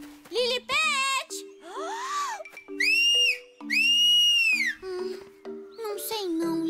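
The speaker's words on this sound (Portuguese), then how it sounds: "Eu não ia mesmo conseguir assobiar de novo" Several short, gliding whistled notes, rising and falling in pitch, each breaking off quickly. A voice babbles between them.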